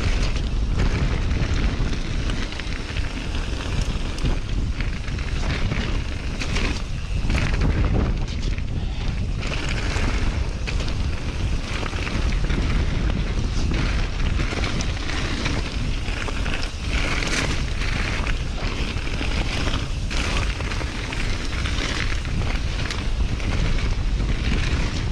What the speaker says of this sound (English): So windy, even in the woods.